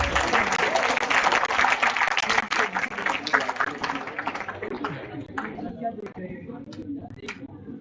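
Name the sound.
audience applause at a conference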